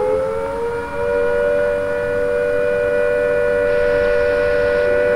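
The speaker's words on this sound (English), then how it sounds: "When the immediate danger of air attack or fallout has passed, the siren will sound a steady note like this." A civil defense siren holds a steady, unbroken all-clear tone, loud and sustained from start to end with no pitch rise or fall.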